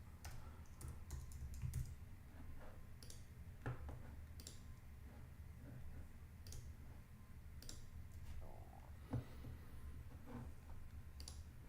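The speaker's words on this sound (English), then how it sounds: "It's hard typing with one hand." Someone types on a computer keyboard with one hand, producing sparse, irregular soft clicks and taps, faint and close, over a low steady room hum with no talking.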